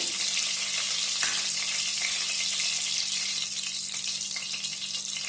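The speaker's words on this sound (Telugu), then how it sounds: "సన్నగా పొడవుగా కట్ చేసుకున్న ఒక ఆనియను వేసుకొని ఒకసారి ఒక నిమిషం పాటు బాగా ఫ్రై చేసుకున్నామండి" Sliced onion fries in hot oil with bay leaf, cardamom, cinnamon, cloves and fennel seeds for coriander rice, giving a steady close sizzle with faint stirring scrapes and no voices.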